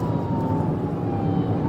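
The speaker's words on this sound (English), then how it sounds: "Now we hear sirens." A steady police siren wail during a pursuit on a major road runs throughout, mixed with a low rumble of road and engine noise, moderately loud and continuous.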